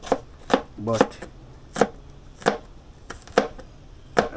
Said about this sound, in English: You can cut your onion faster than this